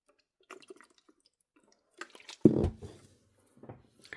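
Water is poured into a tumbler during a snow globe tumbler project, giving one short splashing gush in the middle, with scattered small taps and handling noises before and after.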